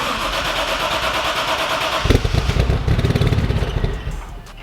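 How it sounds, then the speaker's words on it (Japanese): A Toyota Supra engine cranks and catches, shifting from a steady starter whir to a loud, lumpy rumble that revs briefly before settling. "エンジンかけましょう。"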